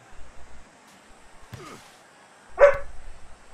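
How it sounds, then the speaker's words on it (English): A pet dog whines with a short rising cry, then lets out a single sharp bark a moment later, close by in an otherwise quiet room. "My dog's crying at me."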